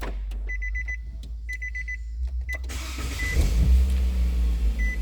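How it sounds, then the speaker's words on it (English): A 2009 Nissan Cube with a no-acceleration fault gives repeated electronic warning chimes with the ignition on, then the engine cranks and catches into a loud, steady idle rumble. "Start the car."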